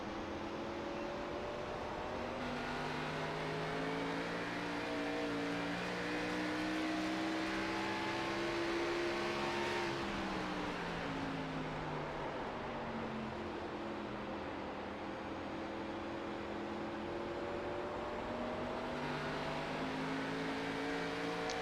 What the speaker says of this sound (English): It's fun to listen to his throttle input.